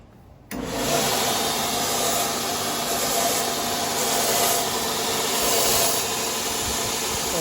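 A belt grinder runs steadily in a blacksmith's shop, crowning the end of a rivet before upsetting; a continuous loud abrasive whir starts abruptly and holds for several seconds with no talking.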